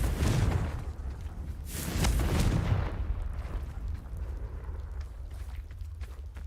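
Confringo fire spell explosion in Hogwarts Legacy, a loud burst of fiery blasts with deep booms at the start, then a rumbling decay that fades into a lower crackling tail.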